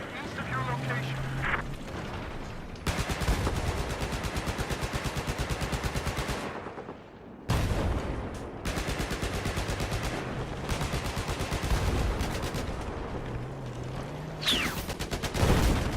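Battlefield 4 gunfire at night rattles in long, loud automatic bursts with short breaks, dense and close, while game voices and effects sound over the shooting.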